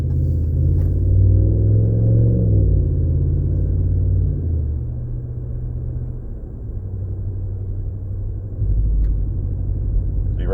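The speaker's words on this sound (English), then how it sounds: "right now it's in 4-cylinder mode. You can hear it gurgling just a little bit" Low, steady exhaust burble from a 2019 Ram 1500 with the 5.7 HEMI V8 and a muffler delete, cruising around 35 mph in four-cylinder mode; a deep continuous rumble with slight pitch shifts, fairly loud and alone throughout.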